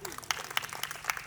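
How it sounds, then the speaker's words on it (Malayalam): Guests at a Kerala Christian wedding chantham charthal ceremony clap together in a brief, moderately faint burst of applause from a small indoor crowd. "സന്തോഷമുള്ളവർക്ക് നല്ലൊരു കയ്യടി തന്നേ"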